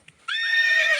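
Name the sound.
horse neighing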